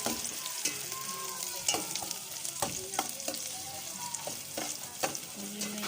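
Garlic and ginger fry in a pan with a continuous sizzle, broken by repeated scrapes and clinks of a utensil stirring them.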